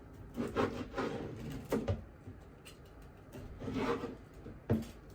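A knife saws through crusty focaccia with rough, crackly rasping strokes in bursts, close and fairly quiet, pausing between cuts.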